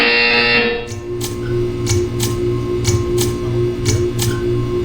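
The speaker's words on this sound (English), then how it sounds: "You will hear a buzzer." A buzzer in the Portal 2 game sounds as a steady electronic drone, with a brief high tone at the start and a regular series of sharp clicking pulses repeating through the rest.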